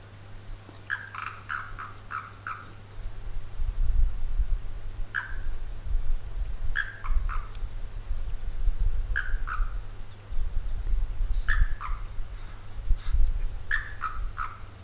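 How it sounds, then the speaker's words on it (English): Frog calls ring out from a waterhole in short repeated bursts, several notes per group at irregular intervals, over a steady low hum and rumbling background noise from a live outdoor feed. "Hello, welcome to the show, Froggy Frog."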